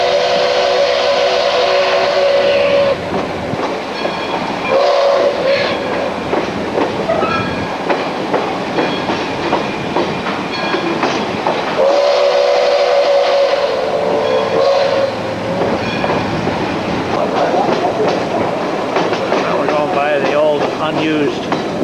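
St. Thomas Central Railway train No. 9 on the St. Thomas to Ingersoll line during the 2004 Canterbury Festival rolls past with steady clickety-clack of wheels on rails, its whistle sounding in several long blasts, loud and close throughout.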